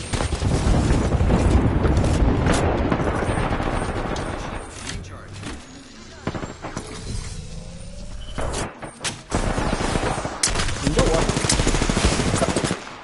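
Heavy gunfire in Apex Legends, including shotgun blasts, comes as dense rapid volleys, loud and close. There is a brief pause with scattered single shots, then the firing resumes, with voices talking over it.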